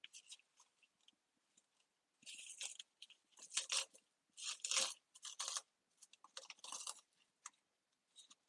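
Scissors snip and crunch through tangled hair wrapped around the brush roll of a Dyson cordless vacuum, a quiet close run of irregular cutting bursts with short pauses and no talk.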